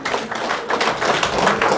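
Dense crowd applause at a BJP headquarters event welcoming new members, a steady wash of many hands clapping at close range for the full stretch with no break.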